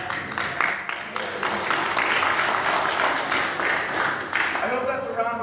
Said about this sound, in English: I hope that's a round of applause for,